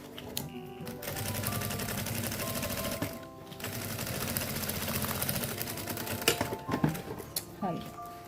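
Sewing machine stitching a handbag at home runs in a steady, close, rapid mechanical chatter with brief stops, while someone talks over it.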